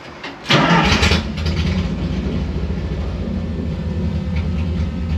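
A Subaru engine swapped into a VW Bus cranks and catches with a loud burst, then settles into a steady, close rumbling idle that runs on alone to the end.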